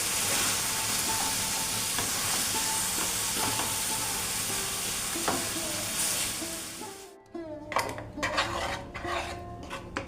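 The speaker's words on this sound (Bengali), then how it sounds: "এবারে দেখো আমি কমলালেবুটা মিশিয়ে দিলাম।" Orange stirred into caramelized payesh sizzles steadily in a hot pan, then a spoon scrapes and clinks against the metal in a few close, sharp strokes.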